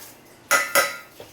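Two quick metallic clinks of a spoon against a bowl while scooping two spoonfuls of gram flour (besan) for papad pakora batter, close and crisp, followed by a faint third tap.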